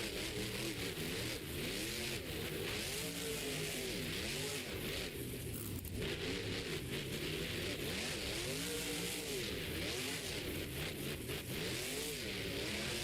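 The Overboard monster truck's big engine revs hard inside an indoor arena, rising and falling in repeated loud roaring swells that fill the space continuously.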